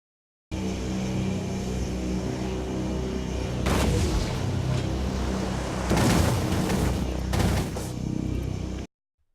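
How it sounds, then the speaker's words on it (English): Missiles slam into a ship in the shooter DUST 514, giving loud booming impacts and crackling bursts over a constant roaring engine drone, close and heavy, with no talk. "After the missiles hit me"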